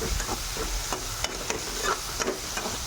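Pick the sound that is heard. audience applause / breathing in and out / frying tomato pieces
frying tomato pieces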